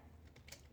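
Keystrokes on a computer keyboard while entering code, a short run of a few soft, close taps in a quiet room.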